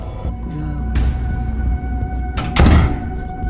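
Loud thuds of a door banging in a house, two heavy knocks about a second and a half apart over a steady background hum.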